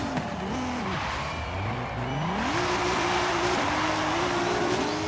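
A Toyota NASCAR race car engine in Forza Horizon 5 roars steadily and loudly, its pitch sweeping up through gear changes, close and unbroken with no talk.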